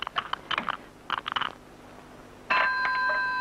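An old office telephone starts ringing after a stretch of faint clicking and tapping, its bright tone steady and fairly close.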